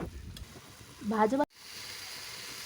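Chicken liver and potato pieces sizzle in a frying pan, a soft steady hiss with a short scraping stir partway through before the sizzle settles again.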